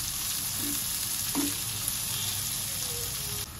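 Onions sautéing in a pan for brinjal bharta with green thecha make a continuous, fairly soft frying sizzle. A brief spatula scrape comes early on, with no voices.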